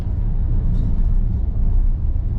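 A car driving a wavy, rough stretch of the Jiagedaqi–Mohe highway in heavy rain makes a loud, steady rumble inside the cabin, with no single jolt standing out.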